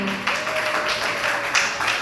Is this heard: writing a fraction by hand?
no